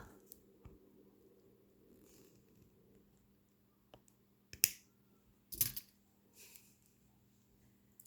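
Cutters snip through bracelet wire, giving a few sharp faint clicks and snaps against near silence, with light handling noise between them.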